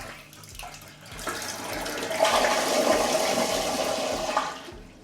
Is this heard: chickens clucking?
no